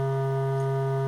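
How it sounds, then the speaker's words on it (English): A steady sine wave tone from a synthesizer module plays alone, a sustained pure pitch holding evenly throughout with faint mains-like hum beneath. "we can adjust the frequency of the sine wave using the controls on the module."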